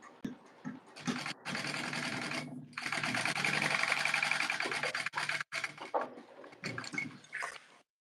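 A sewing machine stitching the sides and bottom of a Taylor tote bag runs in bursts of rapid mechanical whirring, with a long steady run in the middle and short stop-start runs after it, close and loud, with no voices.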